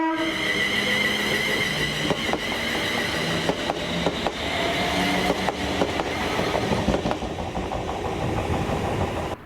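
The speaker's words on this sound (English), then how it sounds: "we see 2T31, the 2054 ScotRail service to Largs from Glasgow Central with 380011" ScotRail class 380 electric train passing on the Largs service out of Glasgow Central, a loud continuous rumble with rhythmic wheel clicks and a whining tone, close and steady.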